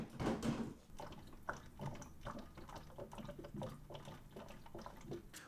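A TaoTronics ultrasonic humidifier, partly filled with water and just set up, gurgles and bubbles in an irregular, continuous stream of small liquid pops and drips at moderate, close-up loudness.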